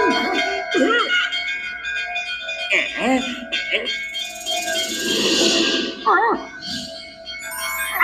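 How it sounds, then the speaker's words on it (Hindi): A bell rung in a Motu Patlu cartoon scene at sea, clanging several times with bright metallic ringing over music and effects, with cartoon voices talking around it. "चलो दोनों एक साथ मिलके इस घंटी को बजाते हैं।"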